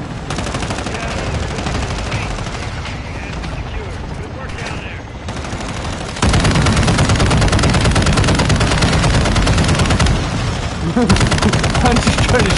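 Rapid automatic gunfire rattles continuously in a Call of Duty Warzone firefight, growing louder and denser halfway through, with players talking over the shooting.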